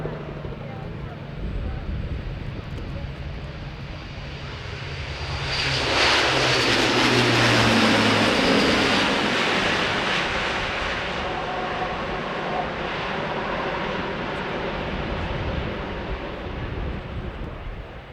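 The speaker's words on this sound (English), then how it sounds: "the A400 Atlas starts his takeoff run" An Airbus A400M Atlas military transport starts its takeoff run at the Farnborough Airshow, with a loud, swelling turboprop roar that peaks about a third of the way in and holds as a broad rumble over a crowd.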